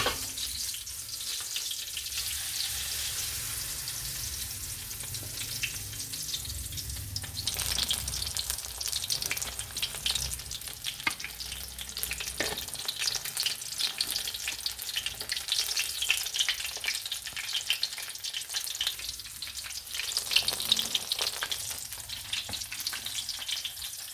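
Enoki mushrooms deep-fry in hot oil, a steady close bubbling sizzle that swells and settles over the batch, with occasional stirring and light rustles.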